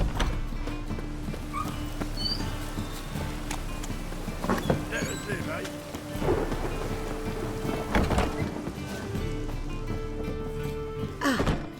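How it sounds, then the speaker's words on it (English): A rainy thunderstorm in The Witcher 3: Wild Hunt, with steady rain hiss and rolling thunder cracks throughout, horse hoof clip-clops mixed in, all loud and close. "A storm, damn it."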